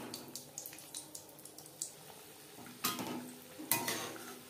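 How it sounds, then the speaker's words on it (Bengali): Chicken patties fry in hot oil over a low flame, giving a soft steady sizzle with faint crackles and a few louder bursts of spattering, close by with no talking. "এবার ভাজবো একেবারে লো ফ্লেমে।"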